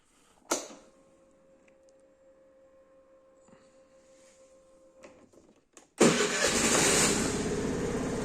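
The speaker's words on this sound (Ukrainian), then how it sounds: "Заводиться супер, працює тихенько, без посторонніх шумів" A 2017 Suzuki Let's motor scooter engine cranks with a brief whir, idles quietly with a steady low hum, then catches and runs loud and steady, close by.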